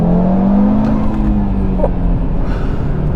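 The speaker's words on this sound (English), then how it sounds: "This car is throbbing with that 5-cylinder warble" Audi RS3 with a five-cylinder engine and aftermarket sports exhaust pulling hard in first gear, a loud, rising, throbbing warble that stays close and continuous.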